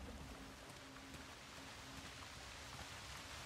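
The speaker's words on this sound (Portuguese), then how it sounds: "Eita, olha a chuva." Steady rain falls in the video game Uncharted: The Lost Legacy, a dense even hiss of drops on surfaces that carries through the whole stretch at low volume with no voices over it.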